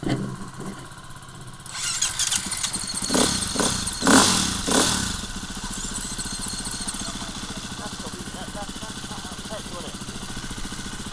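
An enduro motorcycle engine cranks and catches, revving up loudly in a few bursts before settling into a steady rough idle, close by, with people talking briefly near the start.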